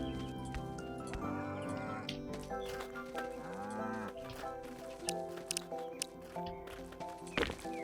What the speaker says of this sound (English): Don't you moo at me.